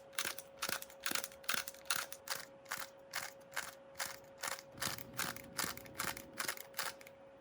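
A GAN 356 speedcube being turned quickly in a solve gives rapid, evenly repeated plastic clicks and clacks, close and crisp, about two per second over a faint steady hum.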